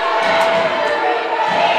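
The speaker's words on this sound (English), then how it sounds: "The crowd is going wild." Arena crowd at a Brooklyn College versus St. Joseph's women's basketball game cheering and shouting loudly and continuously late in the game, a dense roar of voices with a few higher yells on top.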